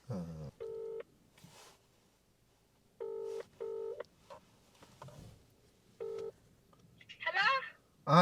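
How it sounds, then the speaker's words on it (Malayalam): Keypad tones from a phone dialing a call, heard as short clipped beeps in quick clusters, close and clear. Quiet gaps sit between them, and a voice comes in near the end. "ദിബു ജസ്റ്റ് അഞ്ജുവിനെ വിളിക്കാമോ?"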